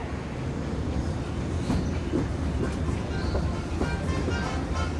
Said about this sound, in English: If you'll be leaving us here, please remain seated until the train comes to a complete stop.